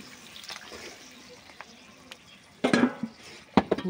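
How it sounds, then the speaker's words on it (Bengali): Water is poured into a pan of prawn and cauliflower curry with beans. Two short splashing bursts come near the end, after quiet stirring and faint kitchen clatter. "এই জল ঢেলে দিচ্ছি। জল ঢেলে দিলাম।"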